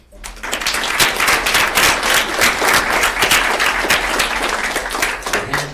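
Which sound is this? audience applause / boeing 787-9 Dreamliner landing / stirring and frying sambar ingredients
audience applause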